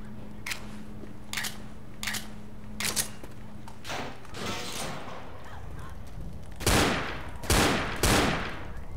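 Gunshots in the zombie shooter Left 4 Dead at a construction site, a series of sharp evenly spaced single shots followed by louder, heavier blasts near the end, little talk.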